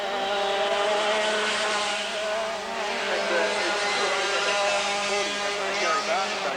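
Dirt kart race cars lapping a speedway, their high engine whines rising and falling steadily as they pass, with a race commentator talking over the engines throughout.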